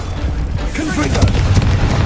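Confringo fire-spell explosion in the Hogwarts Legacy video game, a close, heavy booming blast with dense low rumble and crackling bursts throughout, set against busy combat sound effects.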